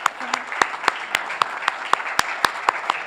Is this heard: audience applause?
yes